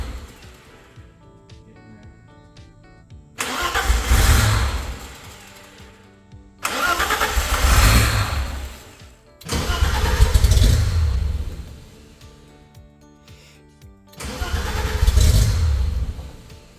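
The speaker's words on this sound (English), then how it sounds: "All we needed to do was get the car running long enough to get warm" A BMW drift car engine under repair cranks and fires four times in a row, each start building to a loud, close rumble that runs a second or two before cutting out.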